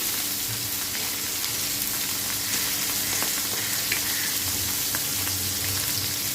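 Chapila sea fish fry crisp in hot oil in a pan, giving a continuous close sizzle and crackle that runs steadily throughout with no talking.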